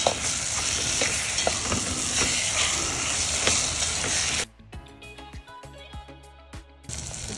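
Tomatoes sautéing in a pan for fried brinjal bharit, a steady close sizzle with stirring scrapes that cuts off midway, leaving a few quieter clinks and taps before the sizzle briefly returns.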